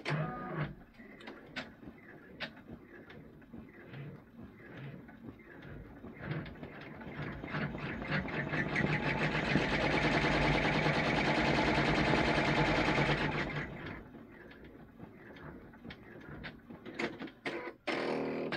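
A computerized embroidery machine sews a placement stitch through fabric in a hoop, its needle clattering in quick mechanical bursts that build into a steady whirring run, then taper back to scattered ticks.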